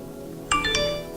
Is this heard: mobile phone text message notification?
yes